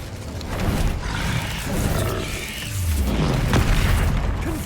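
Fire spell cast in the video game Hogwarts Legacy, a loud roaring whoosh with booming low rumbles that swell and continue for several seconds, filling the scene without speech.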